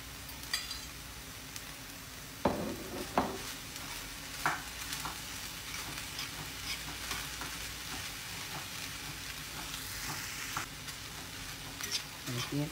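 Onions and colored bell peppers sizzle steadily in a hot pan for a potato and minced-meat pie, with a few sharper clinks and stirring scrapes over the continuous close frying hiss.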